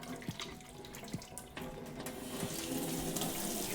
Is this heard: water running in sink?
yes